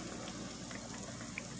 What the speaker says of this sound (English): a tiny, tiny little bit of water. Just a tiny bit to get it steamed.